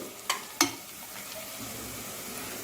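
Chopped ginger and garlic fry with onions in a pan, giving a steady close sizzle with two sharp clinks of a utensil early on, and no one talking.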